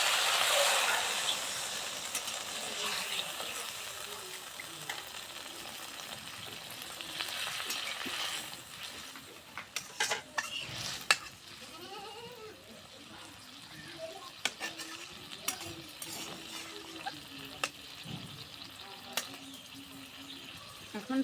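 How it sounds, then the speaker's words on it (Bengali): Spiced masala sizzling and frying in a pan after water is added, with a steady hiss and scattered clicks of a spoon scraping and stirring, fairly close and moderately loud throughout. "এখন আবার পানি দিয়ে কষে নেব।"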